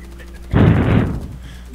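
Gunfire in the PC shooter Warface during a survival mission, a short loud burst of rapid shots lasting about half a second over low background game noise, tailing off quickly.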